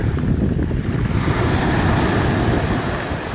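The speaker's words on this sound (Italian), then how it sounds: "E questo è il mare oggi" Sea waves and wind on the Sicilian coast in late June, a steady loud wash of surf mixed with blustery wind buffeting the microphone, with no voices.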